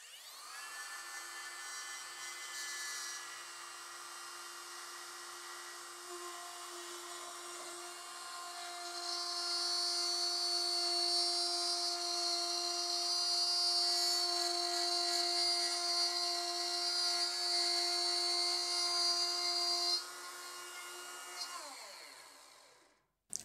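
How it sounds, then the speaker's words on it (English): A plunge router cuts into a wooden workpiece with a high, steady whine lasting about twenty seconds. The pitch rises and grows louder partway through, then the motor winds down at the end. "you lean the base like so on that slight angle and just make the plunge"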